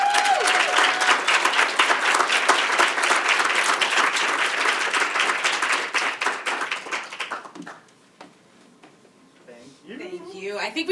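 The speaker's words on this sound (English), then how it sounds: "if we can give a huge round of applause to Keesha" Conference audience at an opening session giving a big round of applause, dense sustained clapping that fades out after about seven seconds, followed by a speaker talking.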